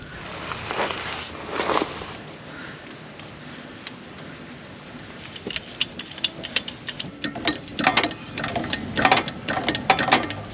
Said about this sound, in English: Righto, all jacked up. Tyres off the ground.